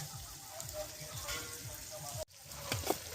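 Traditional mutton curry sizzles and fries in a pan. A soft, steady crackle of hot oil continues quietly, breaks off abruptly for a moment, then resumes.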